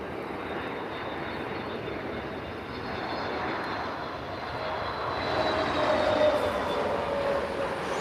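Airbus A321neo landing in a crosswind at Lisbon Airport, heard as a steady, fairly distant jet roar that swells slightly near the end as the aircraft passes, with no talking.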